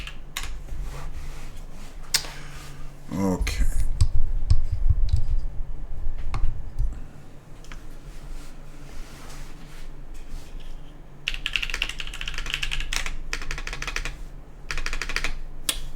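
A Toro60 mechanical keyboard, tested without a force break, gives dense clicky typing in bursts, with a low hum in the early part and a brief spoken word; the keystrokes are close and crisp.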